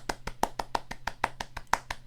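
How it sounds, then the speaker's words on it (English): One person clapping for themselves, a short run of about a dozen sharp, close hand claps at a steady, slightly uneven rhythm. "just clap for myself."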